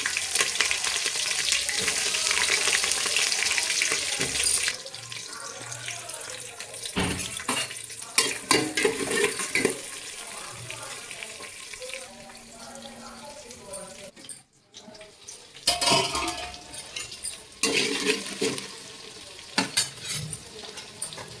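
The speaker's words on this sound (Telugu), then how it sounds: "అవి కొద్దిగా ఫ్రై అయిన తర్వాత ఆనియన్స్ పచ్చిమిరపకాయలు అయితే వేసేస్తున్నాను." Onions and green chillies sizzle and crackle in hot oil in a pan for a chicken curry, with steady frying hiss, scraping stirs and a few utensil clinks, loud and close, with no talking.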